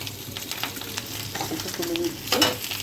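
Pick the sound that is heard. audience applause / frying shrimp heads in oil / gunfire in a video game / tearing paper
frying shrimp heads in oil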